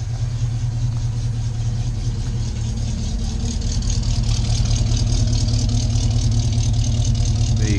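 A V8 engine in a restomod Bedford CF idles steadily and close by, a deep continuous rumble with a faint whirring layer above it, no voices.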